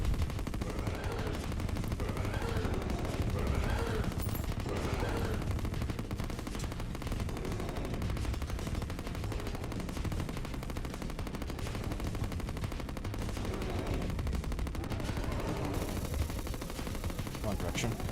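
Rapid gunfire in the Terraria video game with Fargo's Mod, a dense continuous barrage of shots running throughout under occasional speech.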